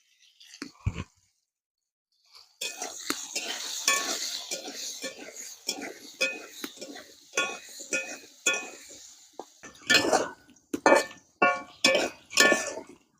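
Potatoes frying in oil with turmeric and salt for a village-style sea crab curry, with a spatula scraping and clinking against the pan in bursts over a low sizzle, close and with no voices.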